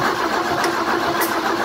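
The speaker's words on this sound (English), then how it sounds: "now let's crank it on cylinder number three" Porsche 944 engine cranked over on the starter during a compression test on cylinder three, a steady, loud mechanical whirring drone with no talking.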